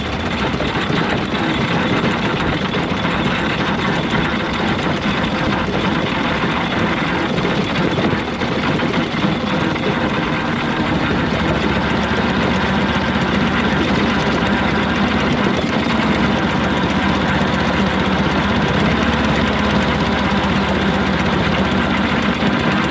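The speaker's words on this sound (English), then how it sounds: "You can see the road locomotive just overtaking a 4-inch scale Foster traction engine" A steam road locomotive overtaking a 4-inch scale Foster traction engine at a model engineering exhibition, giving a continuous steady chuffing engine drone with mechanical clatter, close and fairly loud throughout.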